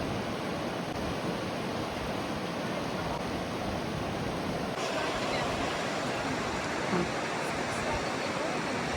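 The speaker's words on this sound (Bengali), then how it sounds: "ঝর্ণাটা দেখেন কি চমৎকার একটা ঝর্ণা।" A waterfall in a Swiss mountain village roars as a steady, broad rush of falling water, loud and unbroken from start to finish.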